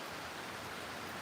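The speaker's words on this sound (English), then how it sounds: "heavy rain." Heavy rain falling outdoors, a faint, even, continuous hiss of drops with no breaks and no voices.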